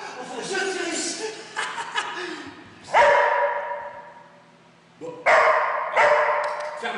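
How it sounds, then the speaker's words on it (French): A small dog yaps in short, sharp bursts, three or four loud barks spaced unevenly and close by, with a person speaking and chuckling between them. "Un petit chien."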